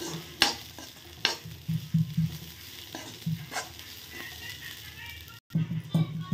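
Vegetables frying in a pan with salt, a steady sizzle broken by repeated scraping and clattering stirs, with a brief dropout near the end.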